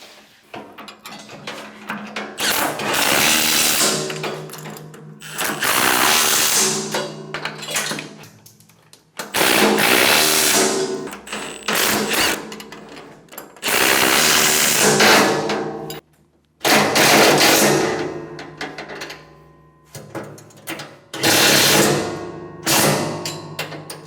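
Bolts on the fan of a MUSKOX 23 37 snowblower are tightened with a power tool, which whirs loudly in repeated bursts of several seconds each, with short pauses and clanks between them.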